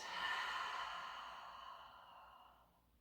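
Long exhaled breath out through the mouth, a single soft airy sigh that starts strong and tapers away over about three seconds, close and quiet.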